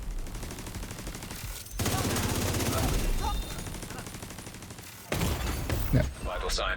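Turret gunfire in a video game, a steady rattling stream of shots that cuts out briefly and then resumes louder in a second burst, with no talk over it.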